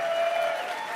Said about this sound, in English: give a huge round of applause to all of our sponsors